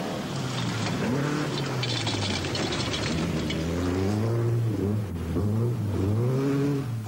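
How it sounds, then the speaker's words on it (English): A Ford Escort rally car driving hard on a gravel stage, with its engine droning loud and steady throughout and stones rattling against the underside. "the stones rattle away from the underside of his escort"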